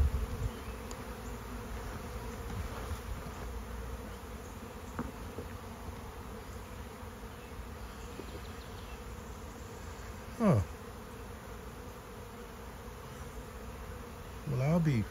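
Bees buzzing in a steady, faint hum from a swarm near a backyard hive, with a couple of individual bees passing close by in brief louder drones; no talk.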